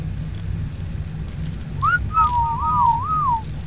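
A human whistle in the survival game ARK: Survival Evolved on the Ragnarok map, a short wavering melodic phrase rising and falling, fairly clear over low rumbling background noise.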